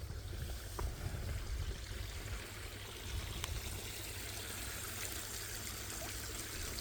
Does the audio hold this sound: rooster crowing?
no